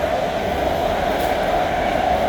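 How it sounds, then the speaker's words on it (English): A BART commuter train rumbles past outside a home, a steady, loud mechanical drone with a strong hum that holds evenly throughout, with no talking over it. "That's the BART train."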